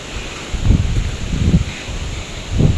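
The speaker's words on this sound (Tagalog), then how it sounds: "kaya po malakas po ang hangin dito" Strong wind during a storm with the habagat monsoon, buffeting the microphone in low rumbling gusts that swell roughly every second, loud and close over a constant airy roar.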